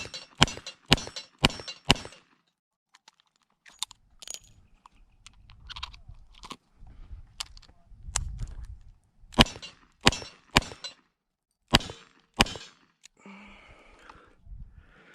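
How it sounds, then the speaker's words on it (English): Ruger SP101 snub-nose revolver fired double action with .38 Special rounds at a target, two quick strings of sharp, loud shots in a steady rhythm, with a quieter reload of clicks and rattles between them. "I've got 10 more rounds of 38 special. We're gonna do double action right here at this target"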